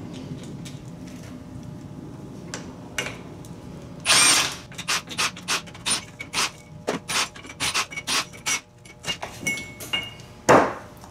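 Irregular metallic knocks and taps on a Dana 30 axle gear, one louder burst and then a quick uneven series of close strikes, working at something stuck.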